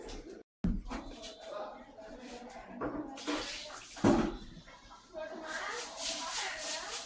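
Water is poured in a household setting, making splashing and trickling bursts over soft shuffling, with people talking quietly throughout.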